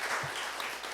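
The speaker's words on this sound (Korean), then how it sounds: "모두 큰 박수 부탁드립니다." An audience at a middle-school digital-issues debate championship final claps steadily as an official walks onto the stage, giving a brief, dense wash of applause at moderate distance.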